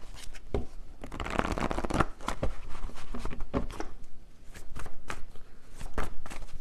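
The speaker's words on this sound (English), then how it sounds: "let me get a few more cards" Tarot cards being shuffled by hand, a close, crisp riffling and slapping in repeated bursts with short pauses between them, continuing throughout.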